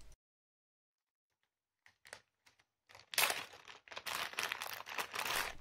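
After a quiet stretch, a small bubble-wrap package is opened with a few faint rustles, then bursts of crinkly, crackling plastic handling close by, with no talking.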